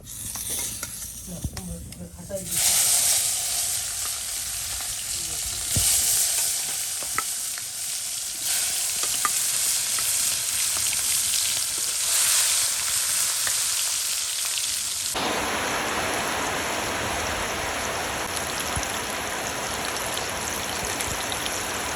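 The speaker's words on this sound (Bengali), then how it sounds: "এখন এই ভাজা পটল, বেগুন, কাঁকরোল এসব আমি একসাথে মাখায় রাখছি, নুন হলুদ। এখন ভাজবো।" Pieces of pointed gourd, eggplant and teasel gourd coated in salt and turmeric frying in oil, a loud continuous hiss and crackle with stirring noises, intensifying sharply near the end.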